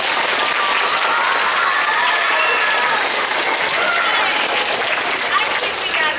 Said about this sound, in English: Show me how well you can applaud.